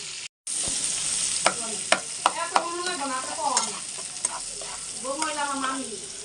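Tilapia frying in oil in a pan, a steady close sizzle with scattered sharp spatters and pops, while a voice talks in pieces over it.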